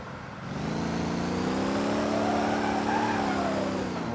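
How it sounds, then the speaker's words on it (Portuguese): Turbocharged pickup truck engine in the Motor Town driving game revving up steadily and loudly, its pitch climbing and holding with a continuous mid-range drone. No one talks over it. "mas nós estamos aquecendo esse motor"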